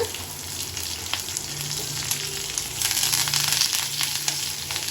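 Garlic, fresh curry leaves, mustard seeds, lentils and asafoetida fry in hot oil for a taro root stir-fry, a continuous close sizzle with faint scraping of a spoon and a brief swell in intensity partway through, without talk.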